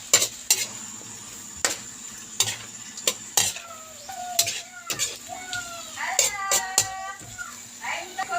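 A utensil stirs vegetables with soy sauce and vinegar in a sizzling pan, sharp metallic scrapes and clinks repeating roughly every half second over a frying hiss, with occasional voices talking.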